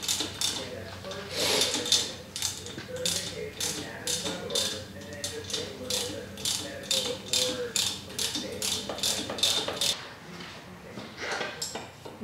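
Ratchet zipping out the upper rocker cover screws on a Harley-Davidson M8 107 engine during teardown: a long run of rapid, repeated clicking bursts, fairly close and steady, with some background clatter.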